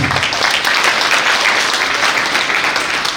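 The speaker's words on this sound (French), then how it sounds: "Applaudissez-vous." Loud, close crowd applause rolls steadily through a mobilisation rally in Gontougo, continuous clapping without a break.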